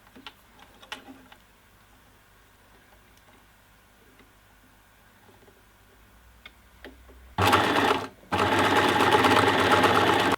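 Sewing machine stitching fabric harness straps, first quiet handling and faint clicks, then two loud sustained bursts of motor-driven stitching near the end, briefly pausing between them.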